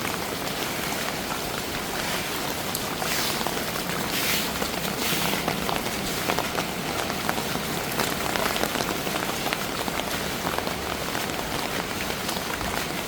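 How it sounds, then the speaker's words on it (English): Heavy rain pours steadily onto a street in Bangkok during the rainy season, a dense, constant hiss with scattered louder spatters, close and uninterrupted throughout. "The rain is laying down a little bit."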